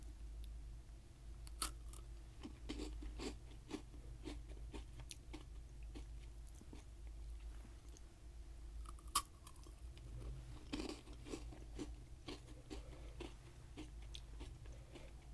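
A brown snack with dark chocolate inside is chewed up close, quiet crunching bites and repeated chewing clicks spread irregularly over a low steady background hum, with no talking.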